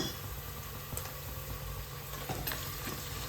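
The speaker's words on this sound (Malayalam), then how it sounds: "അതിനകത്തോട്ട് ഈ 1 table spoon ginger garlic paste ഇട്ട് കൊടുക്കാം." Ginger garlic paste fries with sautéed onions in a pan for a paneer pulao, giving a close, continuous soft sizzle with faint scattered taps of stirring and no voices.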